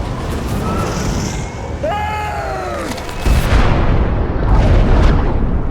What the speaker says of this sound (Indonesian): Beberapa detik kemudian, misil menghantam Igor dan ledakan besar pun terjadi.